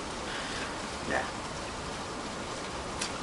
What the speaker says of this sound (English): I'm sure this rain is getting really, really loud for you because I live in a roof